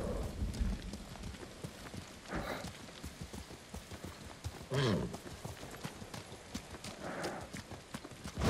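Horses in Ghost of Tsushima give faint, rhythmic hoof clops over a soft rainy hiss, with a few louder bursts of movement.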